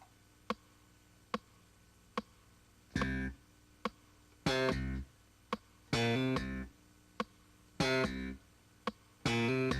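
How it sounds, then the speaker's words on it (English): Slap bass line of short, punchy tones with a hammer-on, played in clipped phrases separated by a steady ticking metronome, close and clean with no other sounds. "we're going to play the first bar of a bass line, and we're going to use short tones and a hammer-on"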